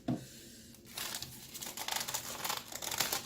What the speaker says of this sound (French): ah, polystyrène à la con.